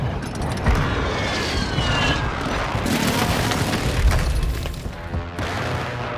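An air strike hits a marked target: a jet roars overhead and heavy explosions boom and rumble in succession, loud and close, with no one speaking.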